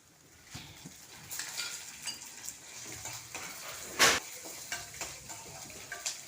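Urad dal, chana dal, cumin and coriander seeds fry in hot oil for a beerakaya tomato pachadi, a steady soft sizzle broken by scraping stirs and one sharp crackling burst midway.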